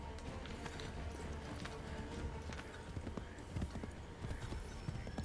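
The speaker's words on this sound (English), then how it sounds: "It's very difficult to steer the horse when you've spurred it." Hooves clip-clop steadily from a horse in Assassin's Creed III, close and continuous, with game sounds and a faint voice underneath.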